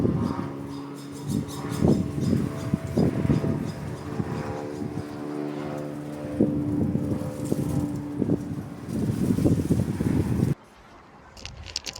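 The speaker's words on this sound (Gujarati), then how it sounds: "પવન બહુ જ છે" Strong wind gusts through trees outdoors as a loud, rushing, buffeting roar that rises and falls. The wind hits the microphone and drops off sharply just before the end.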